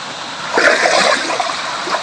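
Water splashing and sloshing in a swimming pool, a continuous wash of splatter and gurgle that swells for a moment in the middle, with no talking.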